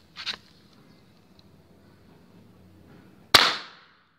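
Two airsoft rifle shots crack out, the first small and muffled, the second a sharp, loud snap with a brief ringing tail, separated by about three seconds of quiet.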